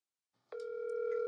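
A telephone rings once, a single electronic tone starting abruptly and sustaining briefly after a moment of near silence.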